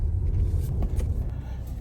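A Skoda Superb 2.0 with a DSG gearbox idles as its engine warms up, giving a steady low rumble that stays close and even for a moment.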